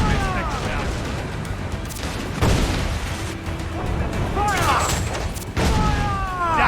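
Pirate ship cannons boom in Assassin's Creed IV Black Flag, several heavy blasts and rolling volleys hitting in bursts, with a voice and whistling shot streaks mixed in.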